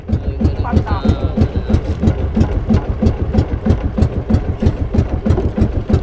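A fishing boat (bangka) engine chugs steadily up close at Dingalan, a loud rhythmic putter that stays even throughout, with a brief voice near the start.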